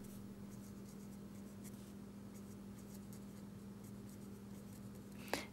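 A pen writes on paper while accounting entries are recorded, soft faint scratching strokes over a steady low hum, ending with one sharper tap.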